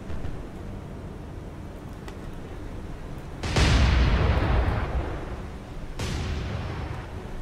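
Naval gunfire and a torpedo launch in the War on the Sea naval combat game: a low rumbling backdrop, then a heavy boom with a lingering roar, followed by a second, softer blast.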